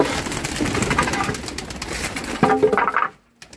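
Pairs of Sialkoti pigeons coo in their loft, soft throaty calls repeating close by amid rustling and shuffling, ending in a brief near-silence.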